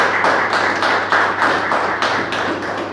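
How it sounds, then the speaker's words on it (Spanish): A church congregation claps for the Lord during a sermon on the Holy Spirit, with steady, rhythmic clapping that pulses in unison and stays loud and close throughout. "Dale un aplauso al Señor entonces"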